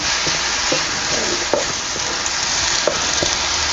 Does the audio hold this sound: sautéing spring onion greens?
yes